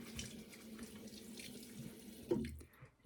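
Exfoliating sponges are rinsed under a running tap, a soft steady stream of water splashing in a sink, quiet and close, with a brief louder splash near the end before it fades.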